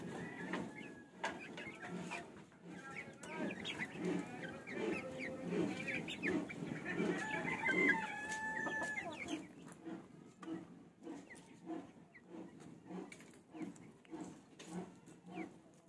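Black Australorp chickens cluck and call inside their coop, a busy, irregular run of overlapping clucks close to the microphone, louder in the middle and thinning toward the end.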